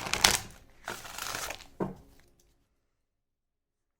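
Tarot cards being shuffled by hand in a few quick bursts of papery riffling and flicking, close and fairly clear, fading to silence after about two seconds.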